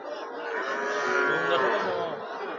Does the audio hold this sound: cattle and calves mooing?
yes